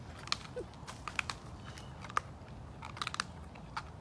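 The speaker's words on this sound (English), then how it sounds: "Snarling and then bone crunching." A big cat crunches bone while eating a turkey drumstick, giving sharp, separate crunching bites spread irregularly over a low background, close up and with no talk.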